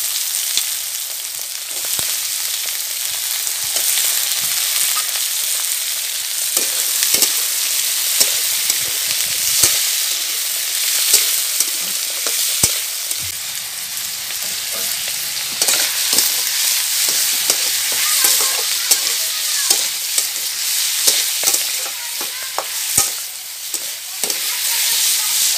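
Chopped onion, chili and potatoes fry in hot oil in a village kitchen, giving a steady bright sizzle that runs throughout, broken by frequent scraping stirs of a spoon against the pan.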